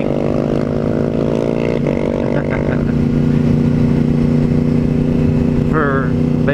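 A motorcycle being ridden, its loud engine droning steadily close by with a slight rise in pitch early on, while a voice talks over it throughout.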